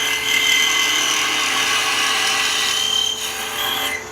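Wooden Christmas ornament being hollowed out on a wood lathe, giving a loud, steady whirring and grinding whine that holds constant throughout, with no talking.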